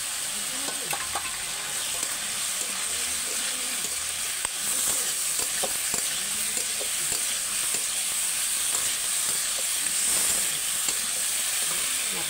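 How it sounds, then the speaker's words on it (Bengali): Cauliflower and potato stir-frying with masala in a pan give a steady, loud sizzle throughout, broken by frequent scraping clicks from stirring; no voices. "এবার সবজিটা ওর সঙ্গে দিয়ে ভালো করে কষে নেব।"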